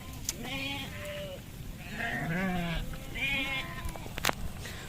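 Sheep bleat repeatedly in an evening pasture, several wavering calls overlapping over a steady background hum, at moderate distance with a couple of sharp knocks and no clear talk.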